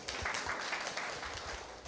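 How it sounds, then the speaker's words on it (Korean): Brief burst of audience applause at a personal-finance lecture, a modest group clapping fairly faintly with scattered individual claps audible, lasting under two seconds. "박수 한번 주십시오."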